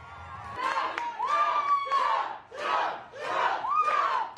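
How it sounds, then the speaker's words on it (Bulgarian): A large crowd at a Donald Trump political rally in Las Vegas, Nevada roars in rhythmic waves of chanting and cheering, swelling and dipping several times, loud and reverberant in a big hall. "С бурни овации беше посрещнат Доналд Тръмп в Лас-Вегас, щата Невада."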